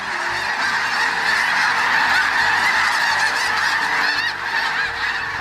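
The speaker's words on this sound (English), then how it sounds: "the cranes and geese will return in late afternoon to roost for the night." A dense chorus of geese honking continuously overhead as they fly in to roost alongside cranes in late afternoon, many calls overlapping loudly without a break.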